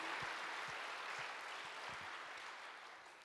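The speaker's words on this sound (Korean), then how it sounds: "큰 박수로 격려해 주시기를 바랍니다." A church congregation applauds in a steady wash of clapping, fairly distant and soft, fading slightly toward the end.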